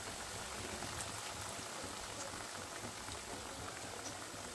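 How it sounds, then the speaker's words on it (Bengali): Pieces of food frying in hot oil on a gas stove over a medium flame, a steady dense sizzle and bubbling that holds level throughout, fairly faint, with no voices. "গ্যাসের ফ্লেম কিন্তু মিডিয়ামে রেখে এগুলোকে আমি ভেজে নিচ্ছি"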